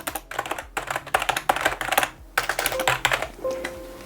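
Keys clatter on a Rampage KB-R99 X-Coral membrane gaming keyboard in quick, uneven bursts of soft taps, close up and fairly loud, pausing briefly between runs of typing.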